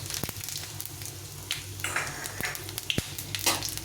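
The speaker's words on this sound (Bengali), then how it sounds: "এলাচ দারচিনি আর একটু জিরে সাদা জিরে তো এটা আমি তেলে দিয়ে ভেজে নেব" Green chillies, cardamom, cinnamon and white cumin fry in hot oil in a pan, a steady close hiss of sizzling broken by a few sharp stirring clicks, with no voices.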